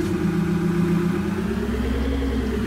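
A Toyota Hilux GR pickup engine in Farming Simulator 22 hums at a steady mid-pitched idle with a slight rise and dip in revs, close and continuous.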